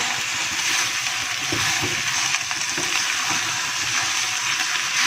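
Moringa chicken (sohanjna chicken) is stirred in a hot pan, a dense continuous sizzle with scraping spoon strokes running close and steady throughout, with no voices.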